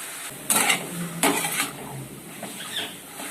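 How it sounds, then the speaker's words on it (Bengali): Taro leaves with chickpeas are stirred in a frying pan, two sharp scraping strokes of a spatula against the metal over a soft, low sizzle, close by and otherwise fairly quiet. "আমি এইভাবেই এবার নাড়তে থাকবো যতক্ষণ না কচুর শাকটা টান টান হচ্ছে"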